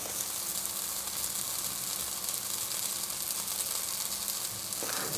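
Olive oil sizzles in a frying pan during breakfast cooking. The hiss is steady, dense and crackling, close and even throughout, with no speech.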